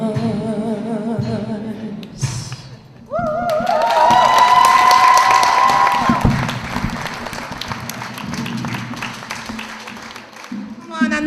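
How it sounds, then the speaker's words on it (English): Audience at a medical school white coat ceremony applauding, loud sustained clapping with some cheering that swells early and then tapers, with a voice briefly over it at the start. "Come on, another round of applause."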